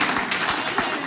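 A round of applause: a dense, steady crowd clapping that sounds like a stock sound effect, with no voices, lasting about a second.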